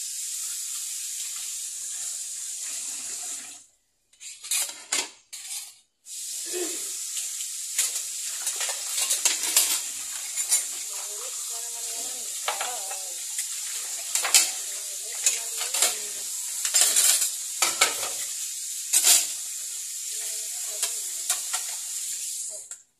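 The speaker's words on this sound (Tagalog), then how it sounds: "So, maghugas na naman tayo ng plato." Dishes being washed at a sink at work, with running tap water and clattering plates and utensils in bursts, a brief pause near the start, fairly close and steady throughout.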